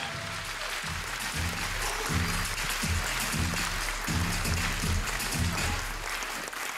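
A crowd claps continuously in sustained applause at a company's eighth-anniversary event, with a rhythmic musical beat pulsing underneath.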